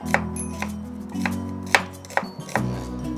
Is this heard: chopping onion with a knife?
yes